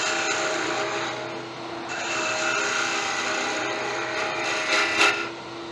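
A tiger wood finial being sanded on a wood lathe, a steady hissing rasp over the hum of the spinning lathe, continuous and fairly close with no talking.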